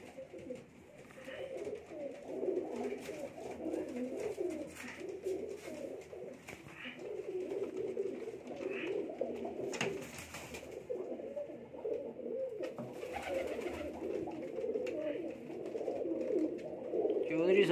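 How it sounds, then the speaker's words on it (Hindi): Salara pigeons coo steadily in low, throaty murmurs, several birds overlapping, with a faint voice and rustling nearby. "या देखो सलारा कबूतर"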